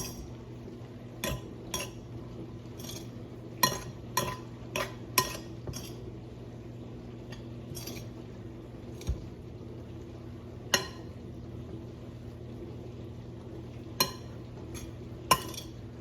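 Cheese and shredded chicken mixed together in a bowl for white chicken enchiladas, scattered faint utensil clicks and taps against the dish over a low steady hum, irregular and sparse, with no talking.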